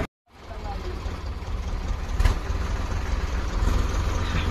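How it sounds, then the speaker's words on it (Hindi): A Sonalika Sikandar 52 HP tractor engine running during a farm towing test, a steady low rumbling drone close by with a brief louder surge midway; people can be heard talking around it. "52 HP का ट्रैक्टर है"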